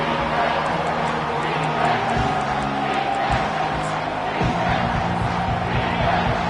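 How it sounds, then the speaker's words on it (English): Stadium crowd roar in an NCAA college football video game, a dense, loud wash of cheering and whooping that holds steady and swells on third down, with speech faintly mixed into the noise. "Decibels rising as the crowd gets behind this defense on 3rd down."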